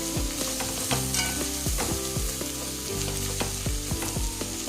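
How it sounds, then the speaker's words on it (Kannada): Spices with turmeric and coriander powder fry in a pan for vegetable masala bath while being stirred, producing a loud, continuous sizzle with busy scraping and clattering throughout and no voices. "ಧನಿಯಾ ಪುಡಿ, ಎಲ್ಲ ಹಾಕಿ ಒಂದ್ಸಾರಿ ಮಿಕ್ಸ್ ಮಾಡ್ಕೊತಾ ಇದ್ದೀನಿ."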